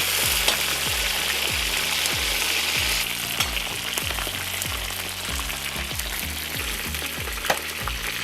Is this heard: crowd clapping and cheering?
no